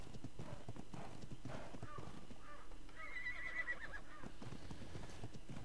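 A unicorn in ARK: Survival Evolved clops its hooves rhythmically and lets out a clear whinny partway through, close and steady, with someone talking over it.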